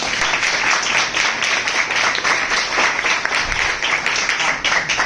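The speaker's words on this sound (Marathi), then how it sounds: "यांच्यासाठी आपण एकदा जोरदार टाळ्या वाजवूया" Enthusiastic applause from an audience, a dense, steady wash of many hands clapping at once, loud and sustained with no break.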